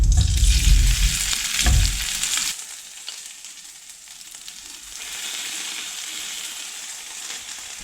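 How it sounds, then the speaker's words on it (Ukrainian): Loud sizzling of potatoes frying in oil left from cooking bacon, crackling strongly at first, then dropping to a steadier, softer hiss with occasional pops. "Одразу в цій же ж олії, в якій смажився бекон, обсмажую картоплю."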